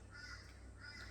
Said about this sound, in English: Crow's here, you hear him?